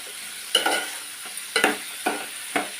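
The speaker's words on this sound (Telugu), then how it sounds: "ఒకసారి కలిపేసుకుని మూత పెడదాం ఉల్లిపాయలు మగ్గేదాకా" A spoon scrapes and stirs onions sizzling in a pan for a Telugu moong dal fritter curry, with four or five distinct stirring strokes over a soft background frying hiss, close by.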